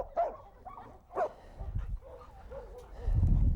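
Puppies at a dog rescue bark and yip in short separate bursts, with a whimper or two, close by, while low rumbling handling noise rises toward the end.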